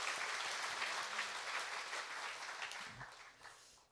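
A church congregation gives sustained applause, a thick, even roar of clapping that gradually tapers off toward the end.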